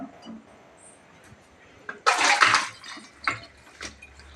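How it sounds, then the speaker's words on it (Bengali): Boiled chow mein noodles drained through a strainer in a home kitchen: a loud rushing splash of water for about a second, followed by a few softer drips and a metallic clink. "আমি এটা দিয়ে ছেঁকে নেবো।"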